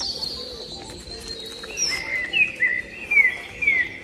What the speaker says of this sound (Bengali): পাখির ডাক শুনতেছি কিচিরমিচির।